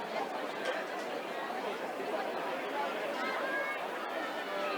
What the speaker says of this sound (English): A lot of buzz around the ground, a lot of chatter between people here.